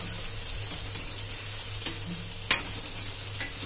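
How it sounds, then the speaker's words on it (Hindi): Long-sliced onions fry in a pan for instant kadhi, a soft steady sizzle with an occasional sharp clink or stir partway through, close and fairly quiet. "और इसमें हम डाल देंगे लंबे कटे प्याज लाइट ब्राउन होने तक हम इन्हें भूनेंगे"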